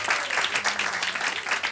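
Studio audience at a quiz night show applauding steadily, a dense even wash of clapping that carries on without pause for a couple of seconds.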